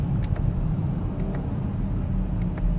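A BMW X7 40i driven in sport mode, with a steady engine drone and road roar heard from inside the cabin, continuous and moderately loud with no voices.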